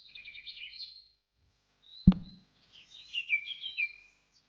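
A pet bird in the video game Forever Pets chirps in short high tweeting phrases, pauses after a single sharp thud, then chirps again, close and clear with no talking.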